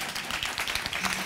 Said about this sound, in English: Yes, please applaud, yes.